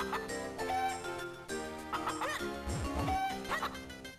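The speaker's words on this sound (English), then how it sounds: "Whoa, chicken!" Chicken clucking in the Zelda: Minish Cap video game, short chirpy game-audio squawks over steady background music.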